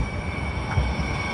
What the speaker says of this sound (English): I'm gonna jump on a streetcar to give you a real San Francisco experience